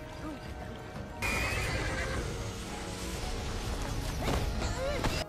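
In an animated scene, a horned horse gives a loud, close neigh and whinny amid clattering hooves, crashing impacts and whooshes, with a brief squeal later under a busy, dense soundtrack.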